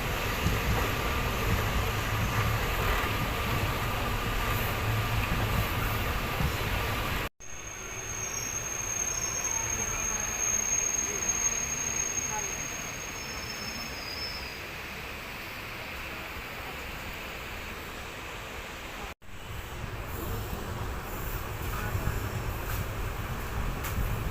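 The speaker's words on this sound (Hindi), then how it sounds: "म्याना स्टेशन को धीरे धीरे स्किप कर गई है।" An intercity train rolls slowly through Myana station in Guna district, giving a steady, moderately loud rumble of wheels on rail with a thin high squeal partway through, broken by two brief cuts.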